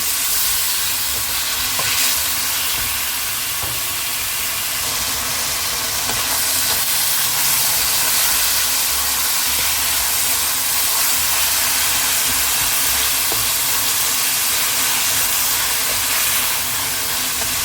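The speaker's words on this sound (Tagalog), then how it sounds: "Haluin lang natin ng mabuti guys hanggang maging golden brown ang ating chicken." Chicken frying in a pan while being stirred, a steady close sizzle and hiss with scraping stir sounds throughout, no talking.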